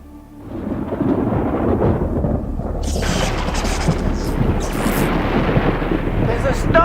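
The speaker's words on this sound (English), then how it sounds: "There's a storm coming." Rolling thunder from a storm in an audio drama of Stephen King's The Stand, a low rumble building after a quiet start and swelling into a loud, sustained roar with crackling bursts, while a voice speaks over it.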